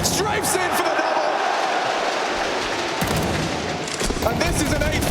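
Rifle fire cracks out in a Counter-Strike professional match on the Ancient map, with several sharp close shots and bursts under continuous caster commentary.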